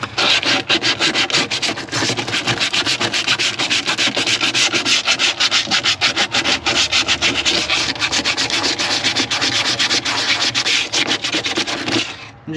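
Sandpaper scuffing the smooth surface of a stock tank to rough it up for putty, a loud, close, continuous rapid back-and-forth rasping that keeps a steady rhythm for about twelve seconds before stopping.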